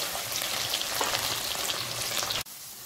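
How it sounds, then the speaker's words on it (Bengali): Gathi kochu (taro root) frying in hot oil until reddish, a steady close sizzle with soft crackles that cuts off abruptly near the end. "গাঁঠি কচুটা একটু লাল করে ভেজে নেব।"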